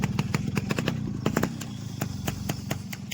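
A scooter engine runs close by with a fast, steady putter and rattling clatter, no voices present.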